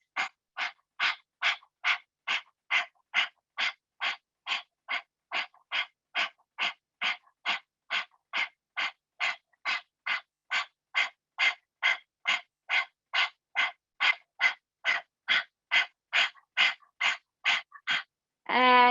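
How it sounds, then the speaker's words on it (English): A person pants rapidly as a breathing exercise, about thirty sharp, evenly spaced breaths in a steady quick rhythm, close and alone, before a single longer inhale at the end. "Really panting like that lion does."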